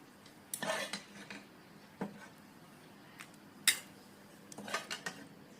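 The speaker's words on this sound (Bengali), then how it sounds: "আর এই যে তরকারি নিয়ে নিচ্ছি দুটো বাটিতে।" Vegetable curry is ladled into two bowls, with a handful of separate spoon and metal dish clinks and scrapes spread out in quiet, close surroundings.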